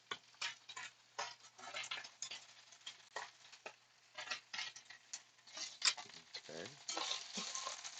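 Kale and tomatoes sautéing in a pan with garlic salt, quiet sizzling with frequent ticks and scrapes of stirring; a person says a word briefly.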